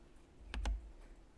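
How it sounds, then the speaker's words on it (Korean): Two quick, crisp clicks from the Delete key being pressed on a computer keyboard, close and fairly quiet in a silent room. "키보드 딜리트 눌러보겠습니다."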